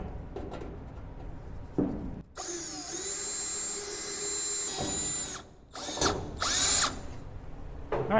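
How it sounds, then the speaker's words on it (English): A power drill boring a hole during inner rocker panel replacement on a Triumph Spitfire whines in one long, steady burst lasting a few seconds, followed by a couple of shorter bursts, close and loud. "I'm going to work the drill."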